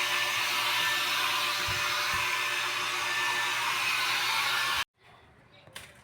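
A blower runs close by in steady, loud, hissing roar for nearly five seconds, then cuts off abruptly, leaving faint background sounds.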